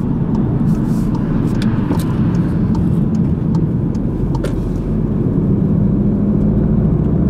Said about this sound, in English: As you can see, I'm accelerating and it's doing 30 miles to the gallon at the minute.